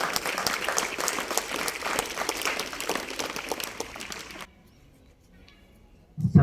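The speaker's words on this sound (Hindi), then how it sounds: "तो एक बार फिर से जोरदार ताली सर के लिए।" Audience applause at a Republic Day 2024 function, steady and fairly full for several seconds, then cutting off abruptly into near silence, with a short burst of sound at the very end.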